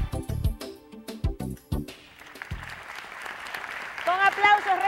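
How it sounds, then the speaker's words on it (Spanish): An audience applauding to welcome an award winner at a ceremony: a voice speaks at first, then steady clapping swells and continues to the end. "Con aplausos recibimos al señor Carlos Luis Morales."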